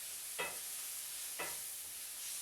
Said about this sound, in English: the veggies, I'm going to stir them up some more